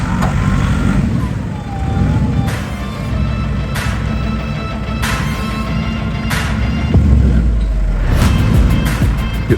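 Vehicle engine revving hard with wheels spinning while stuck in a forest bog, a steady loud drone through the whole stretch that swells near the end, with faint voices underneath.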